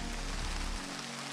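Steady rain pours down in the Padiș mountains in August, a dense, even hiss of falling water close around, with a low rumble underneath that cuts out partway through.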